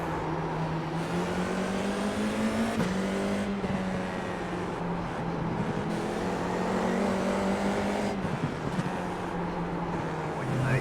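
Race car engines in the iRacing sim during a bunched-up national championship race, a steady droning whine that rises and drops with gear shifts, several cars close together, no talking.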